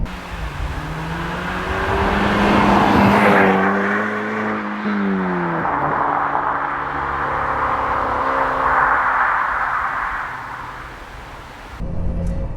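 A Mk2 SEAT Leon Cupra engine with a Revo induction kit and Cobra non-resonated catback exhaust revs up and down with a throaty exhaust note and an intake whoosh, loud and close, the pitch rising and falling over several seconds.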